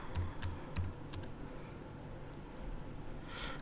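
Computer keyboard typing out a SQL UNION SELECT query, a quick burst of clicky keystrokes at the start, then quieter gaps with a faint hiss; no talking.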